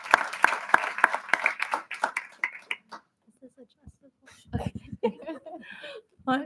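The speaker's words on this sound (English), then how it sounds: "can I do a round of applause for our editors and our writers?" Applause at a board of education meeting for student editors and writers: scattered, distinct claps for the first few seconds that thin out and stop, then a mix of voices, a cough and shuffling.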